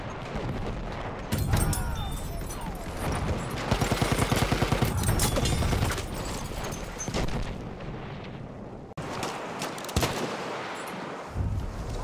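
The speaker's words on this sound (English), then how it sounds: "Machine gun, one of theirs." Enemy machine gun fire in the Battlefield 1 video game, rapid bursts of loud gunfire with a fast rhythmic run of shots in the middle, amid booming explosions and battlefield din.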